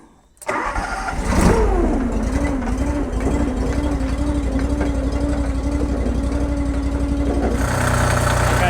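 A tractor fitted with clamp-on forks cranks briefly and fires up, then settles into a loud, close, steady mid-pitched diesel idle that holds for several seconds.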